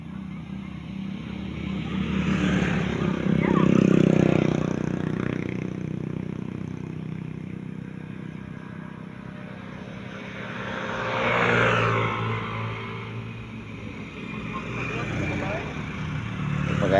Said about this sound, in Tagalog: Ang daming sasakyan guys, maraming motor guys.